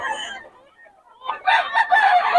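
A gamefarm rooster crows close by, a loud drawn-out call rising in the second half after a brief earlier cluck-like burst.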